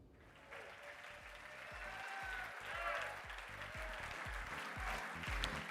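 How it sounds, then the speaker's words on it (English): Guests at the North America's 50 Best Restaurants awards ceremony in New Orleans applaud the winners, a soft, sustained clapping laid over a pulsing, rhythmic music beat. "let's all applaud the new 50 Best winners together"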